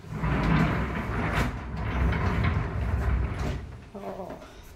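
Wooden base of a sofa bed sliding out and being pushed back in, scraping and rumbling across the floor in a few long strokes while people talk nearby.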